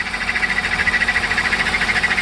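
A BMW E30 325i engine idles while warming up, giving a steady, close mechanical hum with a fast, even pulsing rhythm and a bright whine running through it, with no talk.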